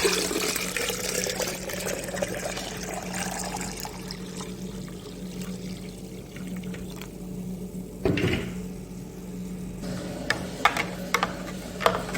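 Tap water pours steadily into a cooking pot in a home kitchen, filling it ahead of pressure cooking. The flow is a continuous hissing splash over a low electrical hum, with a brief louder gush partway through and small clinks near the end.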